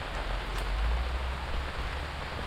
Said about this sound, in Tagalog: Sana tumila na rin yung ulan.